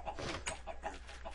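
Minecraft chickens cluck in a quick series of short, close calls, one after another, with no talking.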